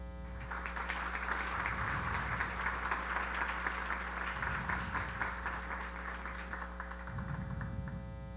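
Applause from the audience at a special legislative assembly session in Pará marking 70 years of a geography and cartography faculty, steady clapping over a constant electrical mains hum, with no talk.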